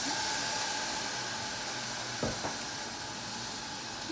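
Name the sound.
lingonberries cooking in a pot for jam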